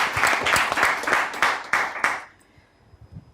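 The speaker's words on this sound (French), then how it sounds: "On applaudit pour lui." An audience claps for a contestant during a game, a brisk burst of applause lasting a couple of seconds before it abruptly dies away into near silence.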